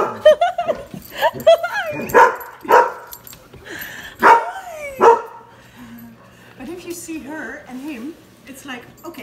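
Several dogs in a house give sharp, loud barks and yips in irregular bursts, with whimpering toward the end, while people talk over them.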